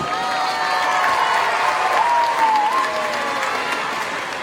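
Crowd clapping for the dance judges at a Greek dance awards ceremony in 2017, a full even roar of hands from the audience with a brief swell in the middle, voices faintly underneath.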